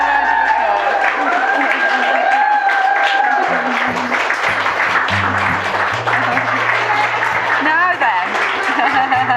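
Applause and cheering for a newly married couple, Laura and Nathalie, right after their kiss at a wedding ceremony. A dense, continuous wash of clapping from the gathered guests, loud and steady throughout, with music or voices running underneath.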